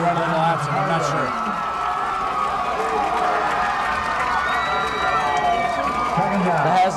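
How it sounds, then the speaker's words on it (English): Crowd at a 1998 high school football game against DeWitt, the Haslett home fans making a low rumbling roar of noise behind steady play-by-play commentary. "The Hazlitt crowd starting to make a little noise, try to help their defense along"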